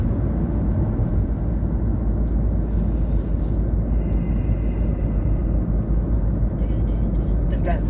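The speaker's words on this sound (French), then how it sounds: "Tu vois la circulation, elle est fluide." Steady road traffic on the way to the airport: a continuous, loud broadband rumble of passing cars, heard from inside a moving vehicle with a faint whoosh toward the end.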